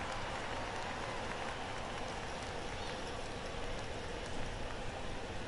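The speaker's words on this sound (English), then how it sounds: "Rain continues to fall." Rain in the baseball game MLB The Show 17 falls as a steady, even hiss that stays soft and unbroken all the way through.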